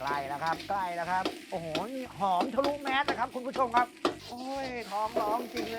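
Rice being stir-fried with canned fish in a pan, with scraping and sizzling under a man's near-continuous excited talk.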